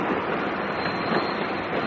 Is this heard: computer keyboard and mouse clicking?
no